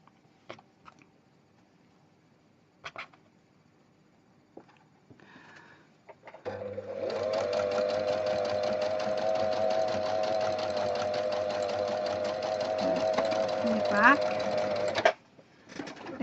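Sewing machine stitching a small Christmas tree decoration, running in one steady, loud mechanical whir for about eight seconds after a few quiet taps and handling sounds, then stopping abruptly.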